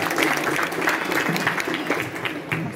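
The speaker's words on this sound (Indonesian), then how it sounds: "Tepuk tangan dong." A class of students at a boarding school claps together in a room, a steady burst of many hands that holds at a fairly even level before easing slightly at the end.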